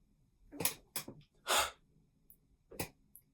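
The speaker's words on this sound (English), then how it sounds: "I have a sneeze" One person sneezes indoors, quiet and close: a few sharp breathy catches and gasps build up to a forceful burst, then a softer follow-up exhale.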